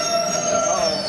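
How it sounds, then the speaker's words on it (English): A New York City subway train's wheels squeal loudly on the rails, a sustained high screech held over a steady rumble of the moving cars. "subway in New York City."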